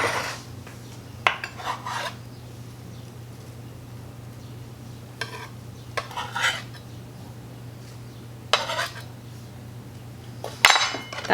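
A metal tablespoon scooping herbs and clinking against a bowl while herb butter is mixed, a few scattered scraping clinks over a steady low hum, close and fairly quiet.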